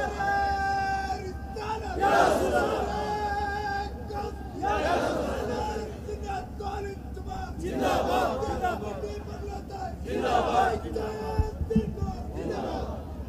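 A large crowd at a religious gathering chants Allahu Akbar back in answer to a takbir call, in several loud, roaring bursts about every three seconds, with someone speaking into a microphone between them.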